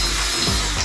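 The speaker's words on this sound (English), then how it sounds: "I'm just pre-drilling the holes to attach the base plate to the ceiling." A power drill bores pilot holes into a ceiling for a pendant light base plate, giving a steady, close, continuous whir with no talk.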